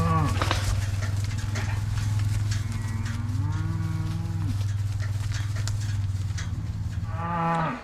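Cattle mooing on a farm, with long low drawn-out bellows, a couple of calls overlapping and another starting near the end, fairly close and loud.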